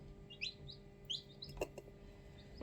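A rescued young chick gives faint, high, repeated peeping chirps, several short calls scattered over a quiet background with a low hum and a soft bump.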